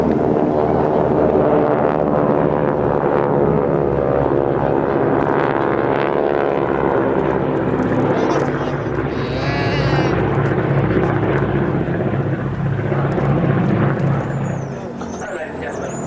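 Vintage aircraft at an airshow roar down the runway on takeoff power, a loud and sustained engine drone that fades a little toward the end, with a commentator talking over it.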